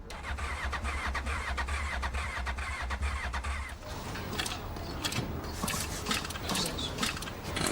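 Mid-sized engine on a machine built from scrapheap parts turns over and catches, a steady mechanical cranking drone that shifts into a rougher running rumble with clattering about halfway through, fairly loud and without talk.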